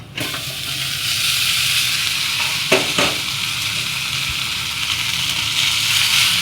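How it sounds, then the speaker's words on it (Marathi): Spice tempering with turmeric, red chilli and coriander-cumin powder sizzles loudly in hot oil for yogurt rice, a steady close frying hiss broken by a couple of brief clinks near the middle. "फोडणी झालेली आहे"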